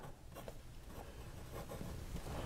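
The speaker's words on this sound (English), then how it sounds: "as we got the ink flowing, it writes well" Fine steel nib of a Wing Sung piston-fill fountain pen scratching across paper in steady, close strokes, soft and continuous with small rhythmic pulses of pen movement.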